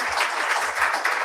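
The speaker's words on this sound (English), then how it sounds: "A round of applause for Luke, please." Audience applause at a healthcare reform conference, a steady wash of clapping hands that holds level from start to finish without pause.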